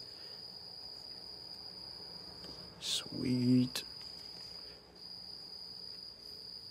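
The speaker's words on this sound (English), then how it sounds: "As long as these crickets would shut up, that'd make the break a little better." Crickets chirp in a steady, high, continuous trill that runs as faint background throughout, while a brief spoken word and a little handling noise pass over it.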